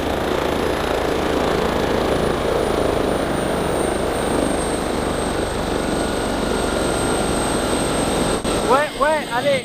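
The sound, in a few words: drone flying and landing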